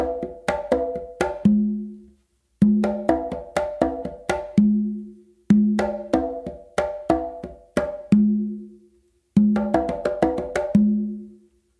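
Full reggae exercise on congas across quinto and tumba, a repeating cycle of quick open slaps closing on a deep ringing open tone, four loops played close and steady with no talking.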